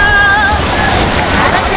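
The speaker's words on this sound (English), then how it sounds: "Beautiful beach, but the waves are very strong here" Strong ocean waves break on a Rio de Janeiro beach during a Carnival block party, a steady loud roar of surf with wind rushing across the microphone and faint voices in the background.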